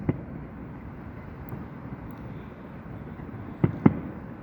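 Distant fireworks seen from a rooftop give a few faint, muffled thuds, one at the start and two close together near the end, over steady wind and outdoor hum.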